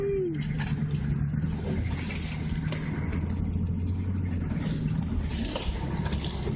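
A car driving off-road through long grass at Wilson's Promontory, with a steady engine drone and continuous swishing under excited voices.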